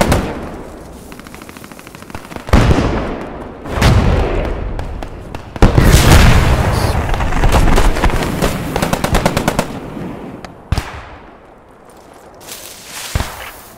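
Gunfire in the WWII shooter Post Scriptum, with several sharp loud cracks and a rapid burst of automatic fire, spaced irregularly with echoing decay between shots.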